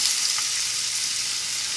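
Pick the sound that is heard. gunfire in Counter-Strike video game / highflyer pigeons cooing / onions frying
onions frying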